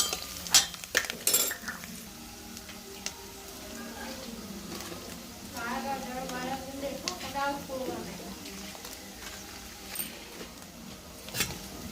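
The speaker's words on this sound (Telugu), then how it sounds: "పసుపు అయితే వేసేసుకున్నాం కదండి, బాగా కలిసేంత కలిపి వేసుకోవాలి." Spoon clinking and scraping in a pan as onions, dried chilies and turmeric are stirred while frying, with intermittent metallic clatter in a village kitchen and a voice talking at times.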